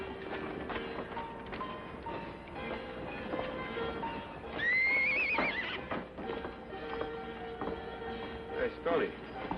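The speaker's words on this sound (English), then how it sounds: "Hey, Stoney, take a look at that horse." A horse whinnies loudly in a rising, wavering call midway through a 1950s TV western, over a steady background of hoof clatter, rumbling noise and low voices.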